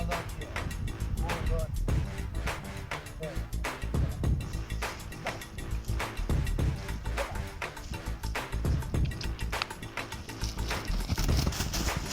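A horse trotting during a warm-up in the rain, its hooves clip-clopping in a steady rhythm close by while someone talks over it.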